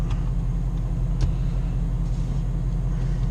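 A 2018 Dodge Charger R/T engine rumbles steadily from inside the car while driving, a loud, low, continuous drone with a faint click or two over it.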